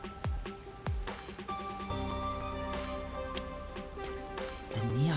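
Rain falling in a neon-lit city district in the video game Rain Code, a soft steady patter under a sustained tonal music bed, with a couple of sharp low thuds early on and no speech.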